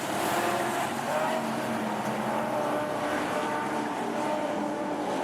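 AMCA race cars roar around Rockhampton Speedway, a dense, continuous engine wash from several cars running together, loud and steady throughout.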